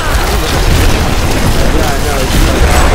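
Loud, dense rumbling booms from explosions in the game Diablo Reaper of Souls, a continuous roaring barrage with no pauses.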